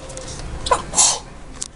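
A single sharp sneeze from a woman, quick and close, preceded by a brief intake of breath in a quiet indoor setting.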